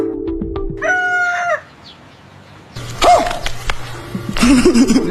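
A chicken clucks and squawks loudly nearby in a rural home, with a long harmonic cackle followed by rougher, bursting calls and scuffling noise.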